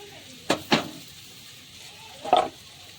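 Curry leaves drop into a hot pan of boiled potatoes and sizzle in quick bursts: two sharp crackles close together, then a third a moment later, with a quiet background between them.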